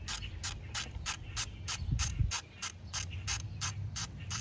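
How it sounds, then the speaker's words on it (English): A ratchet wrench fitted with a deep socket clicks in a steady, fast rhythm while tightening hardware on a 2015 Buick Verano during fuel pressure sensor work. Roughly fourteen evenly spaced, crisp, close pawl clicks sound with no talk. "you can just put it in the ratchet and spin it"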